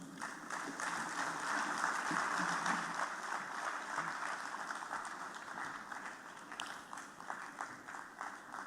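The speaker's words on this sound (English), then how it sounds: "Another round of applause, please, for Dr. Kadri Obafemi Hamzat, Deputy Governor of Lagos State" An audience at a Lagos investment closing ceremony applauds the Deputy Governor of Lagos State with a sustained round of clapping, swelling early and then thinning toward the end.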